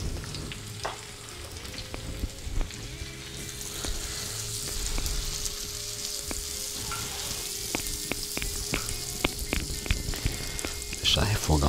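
Red, green and yellow bell peppers sautéing in bottle butter on a plow disc griddle, a dense steady sizzle with scattered pops and occasional utensil scrapes, close and continuous.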